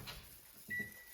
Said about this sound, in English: My microwave.